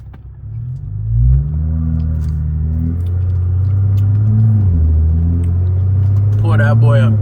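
A big-turbo BMW 540i sleeper races an Audi RS3 with an FBO hybrid turbo, loud engine drone building and holding steady at high revs, a voice talking over it throughout.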